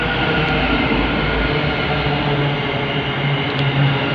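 Class 700 electric multiple unit passing at Hendon on the Midland Main Line on a service to St Albans City, a loud continuous rail rumble and whir with a low throb close by, no talk.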